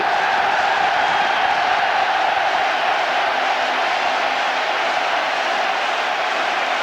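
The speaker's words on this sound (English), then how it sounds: "the vast crowd inside the stadium welcome the teams" A vast stadium crowd at the 1982 FA Cup Final roars steadily as the teams walk out, a dense, continuous wash of distant cheering with no breaks.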